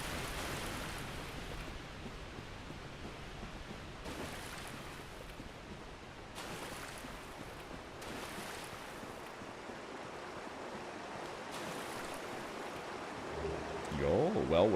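A rushing waterfall in the Dark Souls video game gives a steady, dense roar of falling water throughout, with brief surges at intervals and a louder shift near the end.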